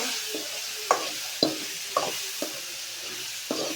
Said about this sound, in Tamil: உடனே கட் பண்ணி அதை சேர்த்து லைட்டாக எண்ணெயிலே வதக்கிக்கோங்க